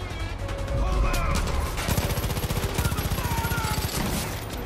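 Far Cry 5 gunfire during a roadblock ambush: dense, sustained automatic fire with fast repeating shots, loud and continuous, mixed with vehicle and action noise.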